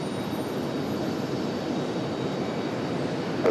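An airliner taking off from the runway at RDU, a steady broadband jet roar that holds constant and fairly loud throughout, with no voices.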